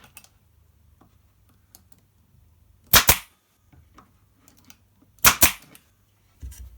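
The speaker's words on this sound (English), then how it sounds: "before you fire the brads" A pneumatic brad nailer fires brads into a wooden cupboard frame for a campervan, two sharp loud snapping shots a couple of seconds apart over quiet background with faint handling clicks.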